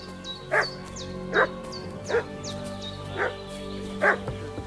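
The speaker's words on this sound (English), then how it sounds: "What's that dog making such a fuss about?" A dog in Kingdom Come: Deliverance 2 barks five times at a steady pace, each loud, sharp woof separated by a short pause.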